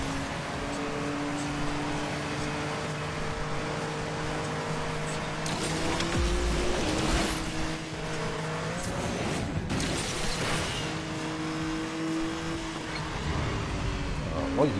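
A steady engine drone with a sustained whine, synthetic and even, under excited talking, with a couple of brief louder bursts.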